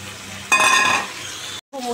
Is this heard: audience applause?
no